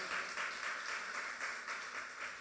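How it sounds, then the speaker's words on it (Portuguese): A church congregation applauds in a brief, steady burst of many hands clapping, rhythmic and somewhat distant, fairly faint and with no talking over it. "Você pode dar um aplauso ao Senhor por seus milagres?"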